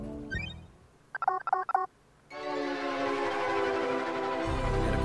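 Starlight, a handheld device in the game Paradise Killer, boots up: a brief chirp, then a short run of quick electronic beeps, followed by a sustained bright synthetic startup tone that swells and holds to the end.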